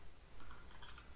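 Quiet, close keystrokes on a computer keyboard tap in a short, irregular burst during a Pokémon match, soft clicks over a faint background hum.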